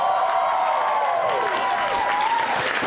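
A concert crowd at a music hall applauds and cheers for the band, a loud, continuous wash of clapping and voices with ringing tones sweeping through it.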